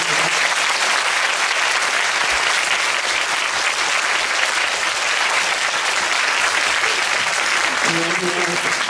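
Dense, loud, sustained applause from a film festival audience in a theater welcoming the director to the stage, steady throughout with a faint voice near the end.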